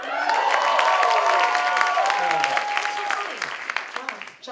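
A crowd at a performance applauds and cheers loudly, with whistles over dense clapping that tapers into scattered claps near the end.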